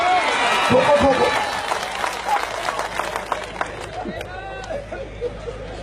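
An audience claps and cheers together in a loud burst that slowly thins into scattered claps, with crowd murmur and a voice talking over it.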